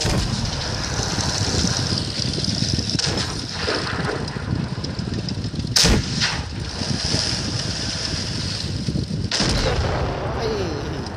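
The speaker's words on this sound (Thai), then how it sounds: "บางทีผมก็ยิงไม่แม่นละ" Tank cannon fire in World of Tanks, in a match between an M4A3E8 and a Tiger I: two sharp, booming shots about three and a half seconds apart over a constant wind-like engine roar, with no speech.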